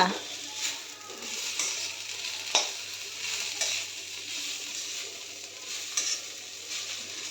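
Saji saag greens frying in a scorched kadai, stirred with a steady rustling scrape over continuous sizzling and a few sharper clicks of the spatula, close up with faint talk in the background.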